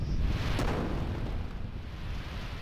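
A cannon blast smashes open a door in the video game Xenogears, a single heavy boom that settles into a low rumbling roar and fades slowly.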